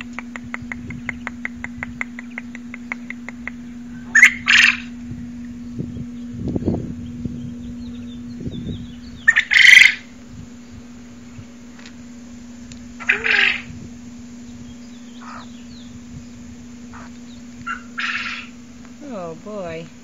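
Quails crowing loudly indoors in short sharp bursts repeated every few seconds, over a steady electrical hum and faint clicking.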